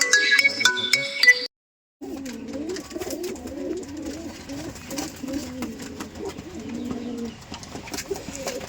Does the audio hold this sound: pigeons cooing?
yes